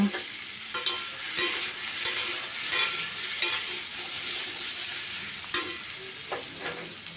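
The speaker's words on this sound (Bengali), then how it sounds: "আলু বেগুনকেও অল্প ভেজে নিয়েছি" Potato and eggplant pieces fry in oil in a pan, a steady nearby sizzle with periodic sharp clatters as the pieces are turned.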